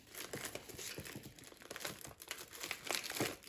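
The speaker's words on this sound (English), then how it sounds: "I'm going to tape that." Tape and wrapping paper on a small gift package holding a mug and peanuts, close crinkling and rustling with short tearing crackles in uneven bursts and no talking.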